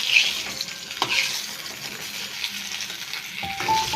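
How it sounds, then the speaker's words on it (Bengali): Eggplant sizzles in hot oil in a pan, a steady crackling fry with occasional clinks and scrapes of a utensil against the pan, close and moderately loud. "এখানে আমাদের বেগুনটি ভাজা হয়ে গেছে।"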